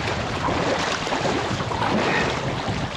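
Wind-driven waves wash and lap steadily against the shore of Dūriai lake, a broad continuous rush with wind buffeting the microphone and no voices.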